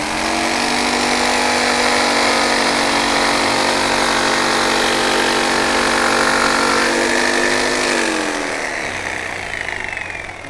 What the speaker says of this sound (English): It's important that you wait for this jigsaw to go completely stop before you pull it out